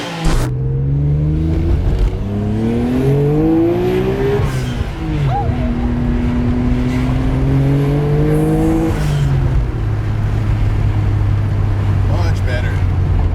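A Nissan Skyline R33 GT-R with a GReddy exhaust revs up and down in long rising and falling sweeps, loud and close over a steady idle, with people talking over it.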